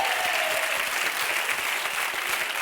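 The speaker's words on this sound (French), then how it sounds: "on l'applaudit très fort" A studio audience on the French game show Attention à la marche applauds a contestant loudly, a thick, steady wall of clapping with no letup.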